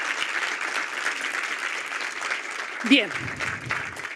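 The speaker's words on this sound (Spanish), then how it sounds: "quiero que le demos un aplauso porque estoy feliz de que esté" Steady audience applause at a corporate presentation, many hands clapping evenly throughout, with a short spoken word breaking in near the end.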